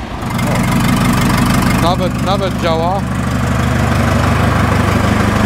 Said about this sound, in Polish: bo będziemy robić odpał ciągnika